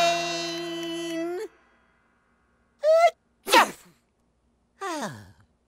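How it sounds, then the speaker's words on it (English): A cartoon character sneezes in a high-pitched, exaggerated burst after a sung note and a sharp intake of breath, followed by a short vocal sigh, all loud and close. "Sneeze if you have to. Sneeze if you need to."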